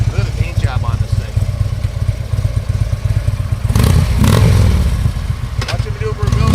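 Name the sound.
2014 Harley Davidson Tri-Glide trike riding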